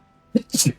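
A single sneeze from a person, a short sharp burst with a quick intake followed by a bright explosive release, close to the microphone with a brief word spoken just before.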